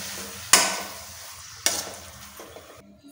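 Beetroot frying in a pan for a palya is stirred with two sharp scraping strokes over a steady soft sizzle, close and clear with no talking.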